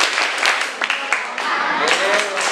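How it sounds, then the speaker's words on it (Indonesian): A classroom of children claps in a patterned rhythm while chanting together, sharp hand claps punctuating their sung voices for a couple of seconds. "Tepuk 2 jempol."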